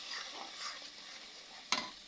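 Biryani masala with blended ginger and green chili being stir-fried gives a faint, close sizzle with soft scraping strokes and one sharp utensil knock near the end; no one speaks.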